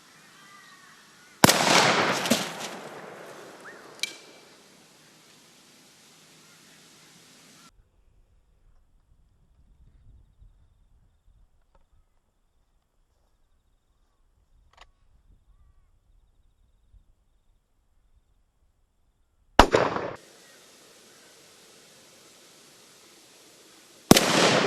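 An Adler Churchill shotgun with a 30-inch barrel and modified choke fires a sharp, loud blast that echoes, then a long quiet stretch follows before another shot and the start of a third.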